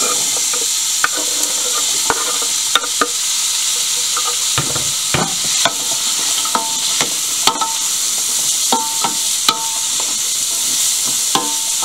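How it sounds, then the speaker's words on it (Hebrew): Small-diced onion and cubed sweet potato fry in a hot pot, a loud continuous sizzle punctuated by frequent scraping and clacking as a utensil stirs them, no voices. "אני מטגנת כך כמשהו 6-7 דקות, אני רוצה בצל זהוב"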